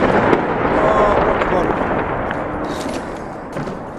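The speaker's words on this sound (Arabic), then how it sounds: "قصف طيران المروحي على خان الشيح" Barrel bombs dropped by helicopter explode over the town of Khan al-Shih in rural Damascus, heavy rumbling blasts with rolling echoes and crackling debris, as people shout nearby.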